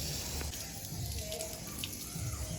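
Rain falls steadily outside a home, a soft continuous hiss with faint patters, fairly quiet and with no one speaking.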